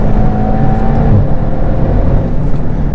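A Volkswagen Golf GTI TCR accelerates out of a corner on a race track, its engine a loud, steady in-car drone with rising harmonic whine and strong low rumble throughout.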